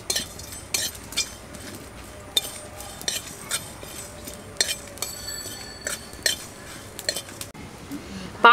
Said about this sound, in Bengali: শুকনো কড়াই, একটা শুকনো লঙ্কা আর পাঁচ ফোড়ন হালকা করে ভেজে নেব।